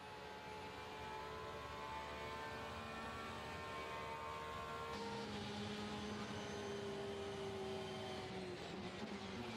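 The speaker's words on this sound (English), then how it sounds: "Let's have a listen to the engine note." Race car engine in the Le Mans Virtual racing game: a loud, continuous high-pitched engine note, its pitch shifting and dipping midway as the car lifts off and reaccelerates, with no talk.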